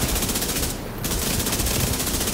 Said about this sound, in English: Why are you shooting at him now